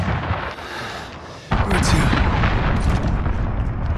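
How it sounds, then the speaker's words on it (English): Cruise missile explosions in Call of Duty: Modern Warfare, a sudden loud blast that breaks over quieter gunfire and then rumbles on as a heavy, sustained roar. "Allied cruise missile away."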